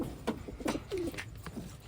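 Pigeons in a coop give a few soft, low coos close by, short throaty bursts spread over a couple of seconds against quiet background.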